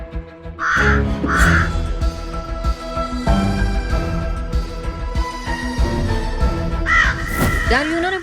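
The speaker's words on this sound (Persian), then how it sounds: "کلاغ سفید هست." A white crow gives a few harsh caws, one pair near the start and another near the end, heard over background music and a voice speaking.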